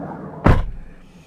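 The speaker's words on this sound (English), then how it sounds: "I'm going to close the door." A Toyota Prado VX door shutting from inside the cabin, one solid muffled thud followed by a brief fading rattle.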